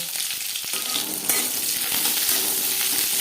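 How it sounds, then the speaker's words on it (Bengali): Onions sizzle steadily in refined oil in a pan, a continuous close crackle with faint stirring scrapes and no voices. "সবার প্রথমে পেঁয়াজ ভেজে নেব"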